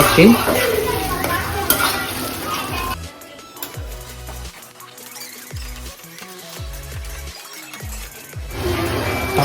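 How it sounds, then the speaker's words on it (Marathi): Potatoes and peas sizzle loudly in a pan, then a spatula stirs and scrapes in repeated short strokes before the frying hiss swells again. "तर चांगला कलर येईपर्यंत भाजू द्यायचं"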